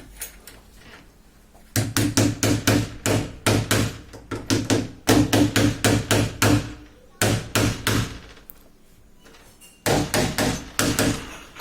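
Repeated light taps in quick bursts seating a door handle during repair, a hard tapping on plastic or metal with short pauses between groups, close and fairly loud.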